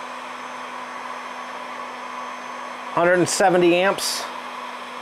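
A 1500-watt electric space heater runs on low with a steady blowing whir and low hum, while someone briefly speaks over it near the end.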